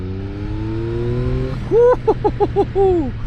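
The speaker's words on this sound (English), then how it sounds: "When you whack the bike a bit, it really goes." A Yamaha XSR900 GP motorcycle idles with a steady low hum, then is given a quick series of throttle blips, several short rising engine bursts in a row, near and fairly loud, ending on one longer rev.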